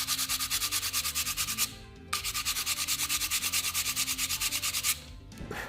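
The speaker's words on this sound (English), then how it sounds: "So I use a rough piece of sandpaper just to take that" Rough sandpaper is rubbed by hand over a wooden carving in quick, even back-and-forth strokes, with a short pause before a second run of strokes and then a stop. It is close and clear, with no talking.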